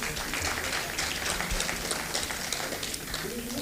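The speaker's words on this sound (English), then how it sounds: "Let's clap for him." Audience applause at a scientific conference, a continuous wash of many hands clapping in a large room, steady and moderately loud without a clear peak.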